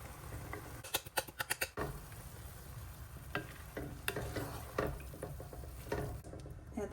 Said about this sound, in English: And then I'm going in with a large can of Bush's baked beans.